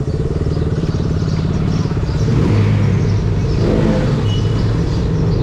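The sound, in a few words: KTM Duke 200 motorcycle accelerating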